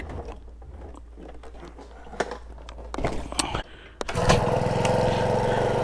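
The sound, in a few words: pull-starting an old bike's small engine with the choke on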